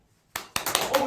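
Studio audience of women clapping on a cue during a live-broadcast lecture, a sudden burst of applause starting up and building into steady, fairly close clapping.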